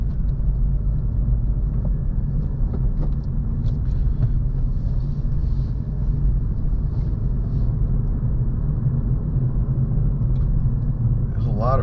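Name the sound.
car driving through French Quarter streets, New Orleans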